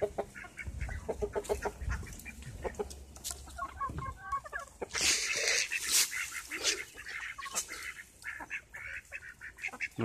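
Hens clucking and squawking close by as a flock is herded into a coop, with overlapping bird calls and brief flurries of noise throughout.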